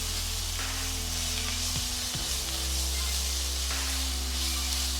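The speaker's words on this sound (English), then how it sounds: "Love the smell of onion and garlic and ginger frying off." Onion, garlic and ginger fry in a hot pan for an Asian pork mince dish, giving off a dense, continuous sizzle. A couple of brief stirring knocks break through the steady hiss.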